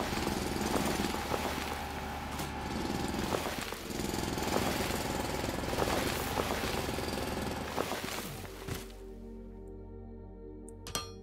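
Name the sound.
drilling in the video game Foundry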